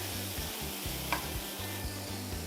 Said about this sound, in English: Let that get all melted around the pan.